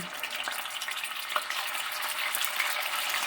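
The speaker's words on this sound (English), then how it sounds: "we're going to go ahead and get this meat in and get it brown" Beef browning in hot oil in a pan for Filipino bistek tagalog, a steady bright sizzle and crackle with a few small pops and stirring sounds, close and continuous.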